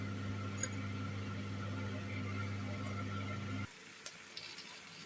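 Beaten eggs with porcini mushrooms frying in an open pan, a steady soft sizzle over a low mechanical hum that cuts off abruptly, leaving faint crackles and small pops.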